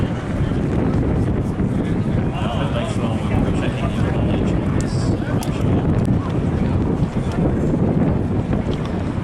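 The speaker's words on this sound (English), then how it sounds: "Because it's fitted with either a 360 or a 400 horsepower Medeniev MP14 radial engine." Pitts aerobatic biplane with a 360 or 400 horsepower Vedeneyev M14 radial engine at an air show, a steady loud engine roar buffeted by heavy wind noise throughout.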